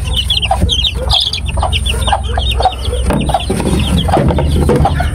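Healthy farm hens clucking loudly and continuously up close, a busy overlapping chorus of short calls with no speech.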